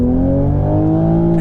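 C7 Corvette or Toyota Supra at stock output accelerating hard with slight wheel slippage, a loud steady engine roar with rising tone up close.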